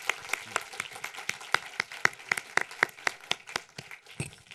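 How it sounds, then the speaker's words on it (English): A small lecture audience claps steadily for several seconds, sharp individual claps with a few voices faintly underneath. "a big applause at this point"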